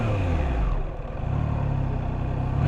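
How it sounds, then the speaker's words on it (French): A Triumph Trident 660 motorcycle with stock exhaust running close by with a low, throaty exhaust rumble, dipping briefly then revving back up. "je vous fais écouter un peu le son qu'elle a. Elle a un pot d'origine."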